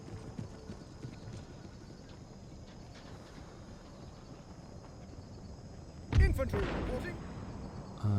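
Horse hooves clip-clop in Empire Total War, a soft steady trot in the background under a faint battlefield murmur, ending in a sudden louder burst.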